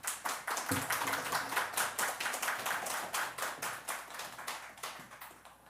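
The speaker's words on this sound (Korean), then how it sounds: "우리 박수로 좀 환영하겠습니다" A church congregation claps to welcome the pastor, a dense run of overlapping handclaps sustained for several seconds with no voices on top.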